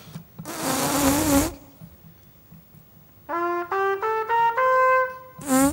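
A brass mouthpiece buzzed with the bottom lip tucked under, giving a stuffy tone: one long rough buzz, then a series of short pitched buzzes stepping through notes, close and fairly loud.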